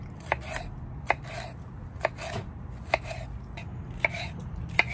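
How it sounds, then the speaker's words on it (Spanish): A knife chops bell peppers on a cutting board in a home kitchen, with sharp, evenly spaced knocks about once per second against a quiet background. "Aquí seguimos cortando los chiles morrones"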